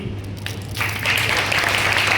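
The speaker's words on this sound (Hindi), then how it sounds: "जोरदार तालियां।" Audience applause at a Hindi group-song music competition, a steady wash of clapping that swells louder about a second in and continues evenly, fairly close and without talk.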